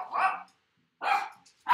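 A dog barks three times, short loud barks spaced about half a second to a second apart, close by in an indoor home setting, with no one speaking.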